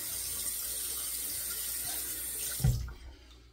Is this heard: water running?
yes